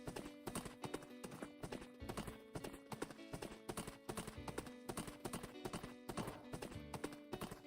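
Horse hooves clip-clop rapidly and steadily in the Wynncraft video game, a continuous galloping rhythm, loud and close, with no talking.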